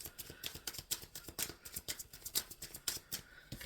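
Tarot cards being shuffled by hand, a quick run of crisp papery flicks and slaps repeating in a steady, close rhythm with no voice over them.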